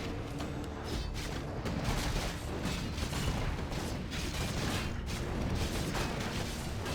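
A Warcraft III battle with a mortar team firing among other units, heard as dense, continuous booms and clattering impacts layered into a loud, busy fight mix with no voices.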